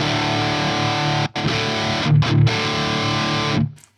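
A Hughes & Kettner TriAmp Mark 3 amp drives a distorted electric guitar in thick sustained chords, broken by a few brief stops and a chugging muted passage, loud and close, ending with a fade.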